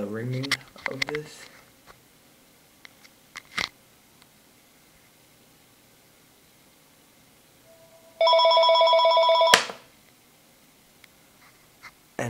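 A home telephone rings once for about a second, a clear electronic ring, after a call placed from an iPod Touch. Quiet handling noises and brief taps come before it in an otherwise still room.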